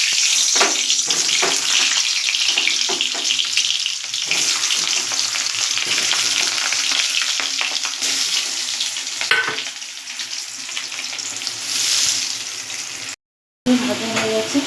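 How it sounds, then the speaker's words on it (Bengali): Salted potatoes sizzle in hot mustard oil in a large wok, a loud, continuous crackling frying with stirring scrapes, a swell near the end and a brief silence before the sizzle resumes. "এবার আমি আলুগুলো এর মধ্যে ভেজে নেব নুন দিয়ে"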